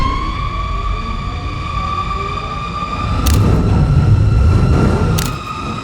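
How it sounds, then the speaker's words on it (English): Batmobile engine in a scene from The Batman: a low growl swells and thickens midway, then eases, under a sustained tonal drone with two brief sharp hits. "there's a dolly in, a rising growl of the engine"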